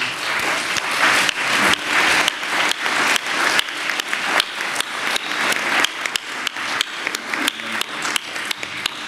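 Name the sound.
audience applause for panel members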